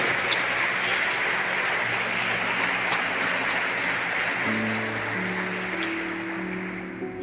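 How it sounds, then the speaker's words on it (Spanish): An audience at a Christian conference applauds in a steady wash of clapping, fairly quiet and distant, while soft sustained musical tones enter beneath it partway through. "Dale un aplauso"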